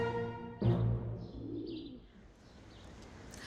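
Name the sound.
pigeons in downtown Berlin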